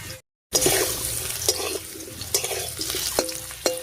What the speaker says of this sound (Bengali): লবণ হলুদ দিয়ে আলুটা খুব ভালো করে মিশিয়ে নিয়েছি। এবারে ভেজে নেব।